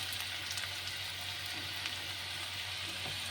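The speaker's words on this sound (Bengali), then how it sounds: "অল্প তেলের মধ্যে এবার রসুনগুলো দিয়ে দেবো, যে রসুনগুলো কুচিয়ে রেখেছিলাম।" Chopped garlic frying in a little oil, a steady soft sizzle with fine crackle that holds evenly throughout, close and moderately quiet, with no talking.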